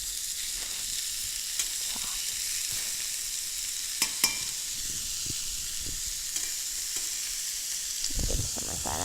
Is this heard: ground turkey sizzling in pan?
yes